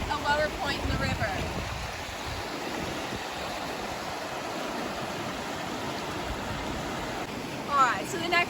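Swift river current rushing steadily, a broadband watery roar that stays loud and unbroken throughout, with a brief louder splash or surge near the end.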